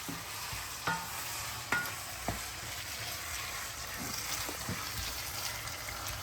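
Saltfish and ackee stirred in a pan as they cook, a steady soft sizzle with scraping spoon strokes and a few sharper taps against the pan, close and alone.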